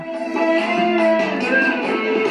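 A karaoke backing track plays loudly through a speaker from a set-top box, with sustained melodic tones and a steady instrumental accompaniment.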